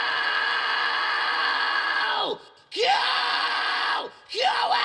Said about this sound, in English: this is the sound of the real heavy scream on this.